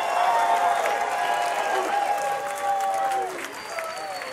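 Applause and clapping from a large rally crowd gathered for reparations in Washington, D.C., steady and full at first and then thinning slightly toward the end, with some voices mixed in.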